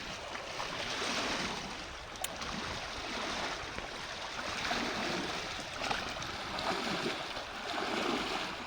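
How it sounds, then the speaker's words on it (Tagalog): Strong river current rushes steadily in a continuous broadband roar, close and loud throughout, with no voices. "Malakas po agos mga idol"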